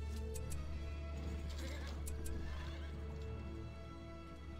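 Horses neigh and whinny in the strategy game The Battle for Middle-earth, several loud calls over a steady game soundscape with faint clip-clop and ticking.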